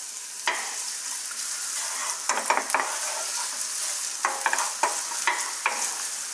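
Chopped onion tipped into hot sunflower oil with garlic for chicken spring rolls, sizzling steadily with several sharp stirring clatters and scrapes of the pan, no voices.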